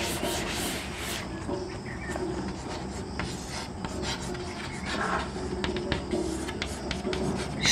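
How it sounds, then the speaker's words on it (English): A board being rubbed clean, a continuous close scratchy rasping with irregular strokes and faint scraping bursts, no talk. "Just a minute, I will rub board and write down fourth answer."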